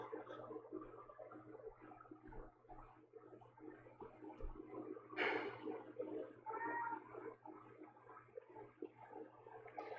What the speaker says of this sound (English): but still meowing at me. Scratching on my door now.